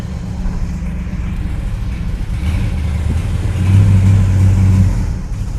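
A Chrysler car with new spark plugs pulls away, its engine holding a steady mid-pitched hum that swells louder partway through as it accelerates, heard up close with no talk.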